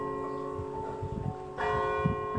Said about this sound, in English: Can you hear the bell striking? The bell is in a medieval bell tower here in my village.